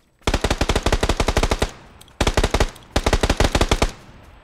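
Tommy gun firing in PUBG on the Sanhok map, three loud close bursts of rapid automatic fire with short pauses between them.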